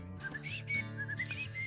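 A person whistles a short melodic phrase of several rising and falling notes, clear and close, with no talk during it.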